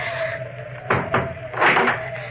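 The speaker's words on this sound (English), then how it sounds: "Then we'll close the shutters." Wooden window shutters are pulled closed in an old house during a 1950 radio drama, giving two short clattering bursts, then a longer rattling knock, over a steady low hum.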